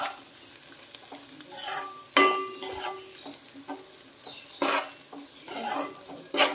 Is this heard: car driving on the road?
no